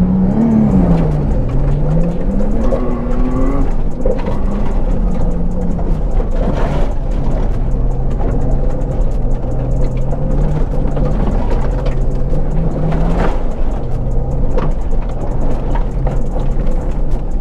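A Nissan Skyline GT-R on a gravel rally stage works through a slalom, its engine loud and close, rising and falling in pitch as it revs and eases between first and second gear, with no talk.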